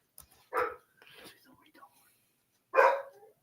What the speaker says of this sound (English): She just hears herself barking and she just got to bark back.